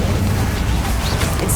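Confringo blast curse exploding in Hogwarts Legacy, a dense, loud, roaring burst of crackling explosion noise filling the short moment without a break.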